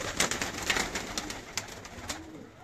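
Teddy pigeons with black feathers coo in soft, repeated rolling calls close by, with no talk over them.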